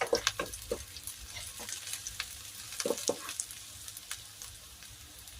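Squid sizzles and fries in a hot pan for adobong pusit with chilli, a steady close crackle broken by scattered clicks and stirring knocks, with no voice over it.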